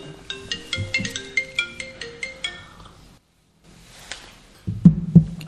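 A mobile phone ringtone plays a repeating electronic melody of short tonal notes, fairly loud and close, pausing briefly before a couple of louder thumping bursts at the end.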